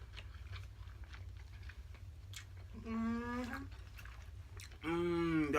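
Close, quiet chewing and biting of king crab legs from a seafood boil, soft wet mouth sounds broken by two short humming vocal sounds.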